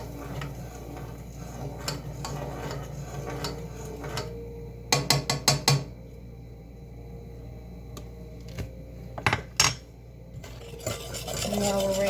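An egg mixture is stirred in a pan: scattered scrapes and clinks of a utensil on metal, with clustered bursts of rapid tapping over a faint background hum.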